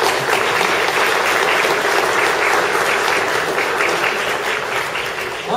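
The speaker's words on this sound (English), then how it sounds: "I think we owe a big round of applause to Rose's parents to be here with us." Full, dense applause from a crowd at a fundraiser, loud and sustained throughout with no pause, tapering only slightly at the very end.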